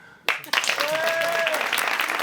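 Applause from a studio audience at a live French radio comedy roast, starting abruptly after a brief quiet moment and continuing as a dense, steady patter, with a whistle-like tone rising through the middle.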